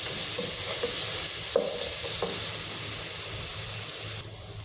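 Onion and garlic fry in hot oil with a steady, loud sizzling hiss, broken by a few short scraping stirs of the pan.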